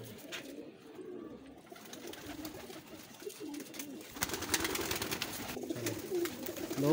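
Ferozpuri pigeons coo in soft, low, repeated calls against quiet background noise, with a few sharper rustles and a brief burst of sound near the end.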